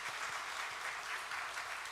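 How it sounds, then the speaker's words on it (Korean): Church congregation applauding in welcome during a Sunday worship service, a steady wash of many hands clapping together at moderate distance, sustained and even throughout without pauses. "우리 박수로 환영하겠습니다."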